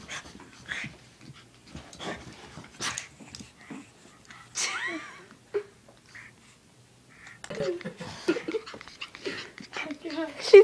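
Puppy whimpering with a few soft barks and pants, heard close up in short bursts mixed with people talking.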